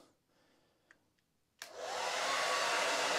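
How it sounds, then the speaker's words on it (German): A hair dryer plugged into a caravan's power supply switches on after a couple of faint clicks and blows with a loud, steady broadband roar that holds to the end. "Wir schließen mal einen Föhn an."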